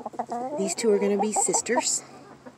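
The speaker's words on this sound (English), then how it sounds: "none of the other chickens will let her roost with them, and they pick on her" Homestead chickens cluck and squawk in short bursts close by, mixed with someone talking over them.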